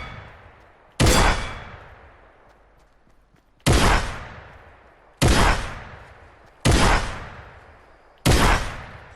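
A shotgun fires in a video game, five sharp loud blasts spaced a second or two apart, each decaying into a short rumbling tail.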